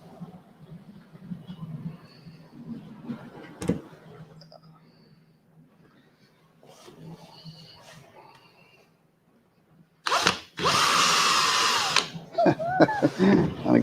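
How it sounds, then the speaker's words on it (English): After quiet shuffling and a sharp knock, a power drill whirs loudly in a couple of steady bursts near the end. "managed to drill that on top of the existing hole"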